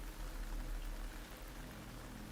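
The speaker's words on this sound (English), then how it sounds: "You can entertain me until the rain stops." Steady rainfall in the video game Metal Gear Delta, a dense, even hiss of falling rain with no voices.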